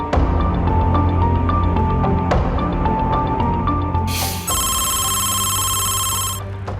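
A telephone ringing with repeated electronic bell tones over a dense humming background, then a sharp bright burst and a sustained high warbling ring, loud and without talk.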